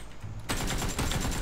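Rapid automatic gunfire in the battle royale game PUBG begins suddenly after a quieter moment, a dense, loud, close string of shots that continues to the end.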